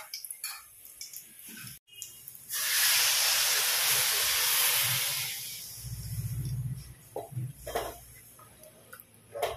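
Water poured into a pan of hot tomato gravy with drumstick leaves sets off a loud, steady hiss and steam burst that swells for a few seconds, then fades into soft bubbling and light clinks.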